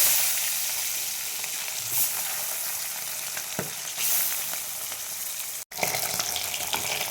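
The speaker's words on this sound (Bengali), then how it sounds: "মাছগুলো আমি ভেজে নেব, তেল দিয়ে দিয়েছি" Parshe fish rubbed with salt and turmeric sizzle in hot oil, a loud, close, continuous crackle with faint stirring, broken by a brief dropout near the end, no voices.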